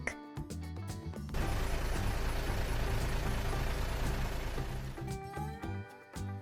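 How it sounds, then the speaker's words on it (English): A loud, steady rumble of a garbage truck engine with clattering mechanical noise, lasting several seconds before easing off. "Garbage truck."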